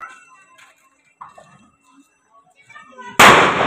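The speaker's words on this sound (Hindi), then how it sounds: "जल्दी हाथ में जल्दी चक्री फेंक दी उसने" A chakri spinning firecracker goes off during Diwali with a sudden loud, hissing burst near the end, following a stretch of faint, scattered voices and background sounds.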